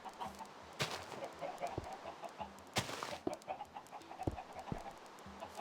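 Chickens cluck in a Minecraft automatic chicken farm, short repeated clucks and squawks scattered irregularly among sharp clicks and pops of blocks, fairly close with no speech.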